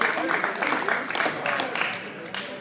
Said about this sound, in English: Round of applause for Jamaal Shango James,